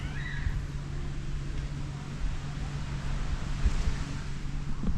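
Steady wind rushing across an open beach at a cove, broad and hissing, with a low constant hum underneath and faint surf in the background.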